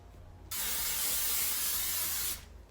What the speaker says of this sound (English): I just spray my grill just like that